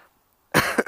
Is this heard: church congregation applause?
no